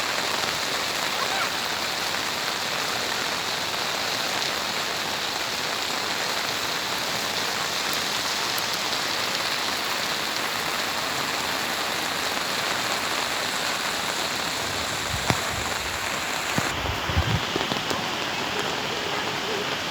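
A flooded river rushes outside a swimming pool in Nepal, a steady, dense roar of moving water that stays constant throughout, with a few brief knocks near the end.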